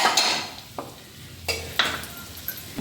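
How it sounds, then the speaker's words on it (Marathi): Kolhapuri bhadang spice mix with cashew slices being stirred in a pan, several brisk scraping strokes of a spoon against metal over a faint sizzle, close and without voices. "सर्व जिन्नस एकजीव करून घ्यायचे।"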